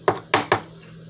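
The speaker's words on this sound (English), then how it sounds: "we're gonna cut it into long cubes and then into squares" A knife chops through banana bread on a cutting board in three sharp, close knocks coming in quick succession, then a short quiet tail.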